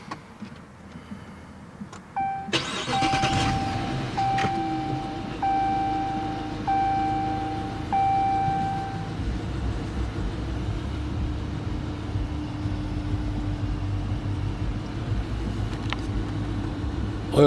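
A 5.7 HEMI V8 in a 2019 Dodge Charger police car cranks and fires, then settles into a steady idle while chimes beep a few times in the cabin.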